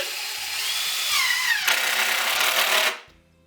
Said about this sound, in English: Now I'll put a screw through the end panel to hold the shelf in place.